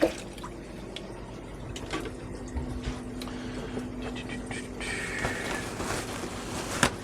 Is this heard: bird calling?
no